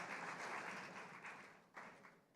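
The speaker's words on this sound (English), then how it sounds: "Can we have a round of applause, please?" An awards ceremony audience applauds continuously, faint and distant, with the clapping swelling briefly near the end.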